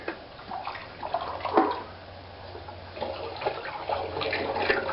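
Water pours from a countertop filter into jugs, a soft continuous running and splashing stream with faint gurgles, fairly quiet and close, with no one talking.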